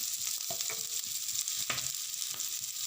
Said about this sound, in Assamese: গোল্ডেন ব্ৰাউন হোৱালৈকে ভাজি লৈছোঁ